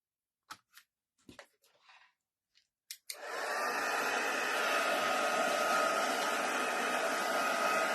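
A heat gun blows hot air over craft card to dry ink, starting after a few short clicks and taps, then holding a loud, steady whooshing hum close to the mic.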